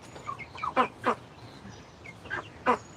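Ducks in a farm pen with chickens, a few short nasal quacks and calls scattered over three seconds, fairly close, with faint background farm ambience.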